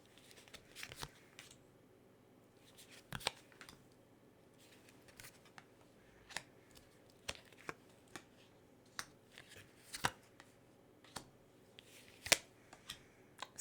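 Tarot cards being laid down on a table, with soft, scattered taps and slides spread irregularly and faintly, a few sharper snaps standing out against a quiet background.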